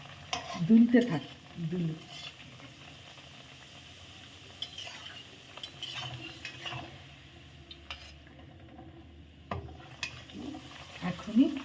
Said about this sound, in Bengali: এখন তেলের মধ্যে দিয়ে দেবো। ব্যাস খেলতে থাক, তেলের মধ্যে ওরা সুন্দর করে খেলতে থাক